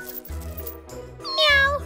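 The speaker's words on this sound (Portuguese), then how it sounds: "Miau! O gatinho adorou." A kitten gives a few short, high meows close by, ending in one louder, rising cry.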